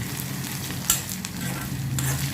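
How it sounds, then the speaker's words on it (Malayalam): Ginger sizzles and crackles steadily in a hot pan, with a few sharp clinks of a utensil stirring. "ഇതിനെ നന്നായിട്ട് നല്ലപോലെ വറുത്തിട്ട്"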